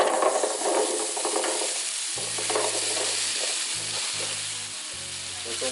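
Potatoes hit hot butter and oil in a skillet, a loud, dense sizzle that settles into a steady crackling fry, with low hum from the stove underneath and no voices.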